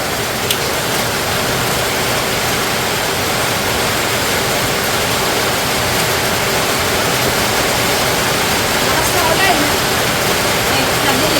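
Heavy rain pours steadily in a home kitchen while pancit habhab cooks, a dense, loud and unbroken roar of water on surfaces that fills the scene from start to finish, with a voice speaking faintly underneath.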